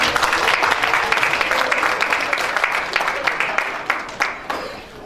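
An indoor audience at a political talk event applauds to welcome the Gangnam district mayor to the stage, with dense clapping that thins into scattered claps and fades by the end.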